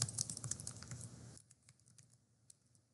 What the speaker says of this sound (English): I'm going to type in oral motor imitation